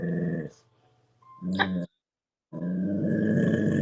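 A dog with a toy in its mouth grumbles and whines in a talky, growling way, two close, loud bursts of vocalising split by a brief silence, with no people talking over it.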